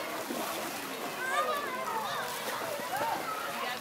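Children splashing water at the Brevard Zoo in Melbourne, Florida, a steady wash of splatter and sloshing throughout, with kids' voices and an adult talking over it.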